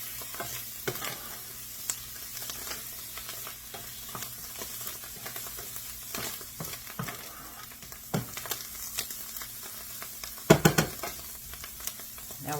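Garlic frying in a pan with onions and mushrooms for beef stroganoff, a soft steady sizzle under occasional spoon scrapes and stirring clatters, with a louder clatter near the end and no talk.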